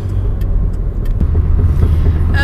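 A car rolling up to an intersection, its low road rumble and engine hum steady and close, with light road and traffic noise around it and nobody talking.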